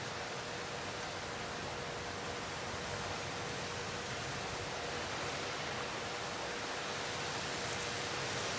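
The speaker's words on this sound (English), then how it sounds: "Nice waterfall." A waterfall in a video game build, a continuous broadband rush of falling water, steady and unchanging, with no voices over it.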